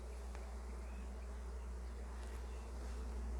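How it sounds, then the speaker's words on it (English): Honeybees buzz close by at a backyard hive, a steady insect drone over a low constant hum with no talking. "Got bees all over me."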